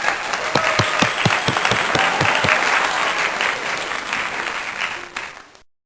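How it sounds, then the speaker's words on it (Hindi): A church congregation at a Christmas worship service bursts into steady applause, many hands clapping together at close range before the sound fades out at the end. "तालियां।"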